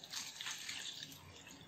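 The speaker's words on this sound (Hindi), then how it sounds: "अब इस एक गिलास पानी को हम इस बड़े से कटोरे में डाल देते हैं।" A full glass of water is poured into a large bowl, producing a continuous splashing, gurgling stream that is loudest at the start and eases off, with no voices over it.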